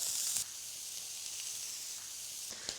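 Steak with shallots sizzles steadily in a hot pan, a continuous bright hiss with a few louder crackles near the start and end, close and alone with no talking.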